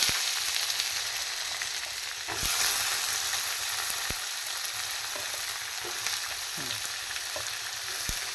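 Onions frying in oil for a broad bean stir-fry (avarai poriyal), with green chillies in the pan: a steady close sizzle with a few sharp spatula clicks and scrapes, no voices.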